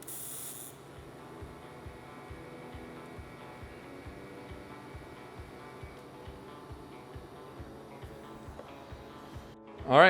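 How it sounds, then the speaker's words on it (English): Tack welding on the bottom bracket of a motorcycle oil tank for a hardtail Triumph chopper: a steady buzzing, hissing arc with a regular crackling pulse runs the whole time, ending in a short louder burst. "Time to tack the bottom bracket."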